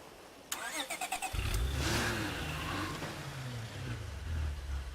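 A car engine in the zombie survival game State of Decay 2 cranks with a quick series of starter clicks, then catches and settles into a loud, steady mid-pitched running drone with a slight rev swell near the end.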